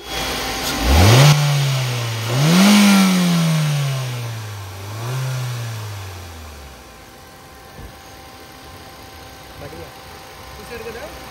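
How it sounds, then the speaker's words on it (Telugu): A car engine in excellent condition is revved three times in succession, each rev swelling and falling back toward a smooth idle, close and loud. "మీకోసం అయితే ఒకసారి వెహికల్ అయితే రేజ్ అయితే చేసి చూపిస్తా"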